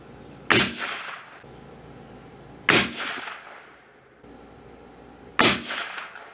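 A Marlin 336 lever-action rifle fires three loud, sharp shots at a shooting range while being sighted in, each a sudden crack trailing into a short echo, with quiet pauses of about two to three seconds between them.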